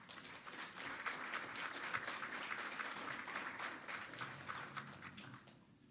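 A room of attendees at a business breakfast event applauds a sponsor, even, continuous clapping at moderate distance that carries steadily and then fades out toward the end.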